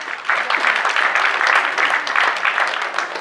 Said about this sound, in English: So huge applause for that Varnam